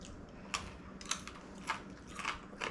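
Close, quiet crunching of crunchy air-fried chickpeas being chewed, about five sharp crisp bites spaced evenly apart over a soft background.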